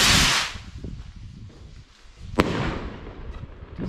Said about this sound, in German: jetzt kommt hier einer von den kubischen Kanonenschlag-Raketen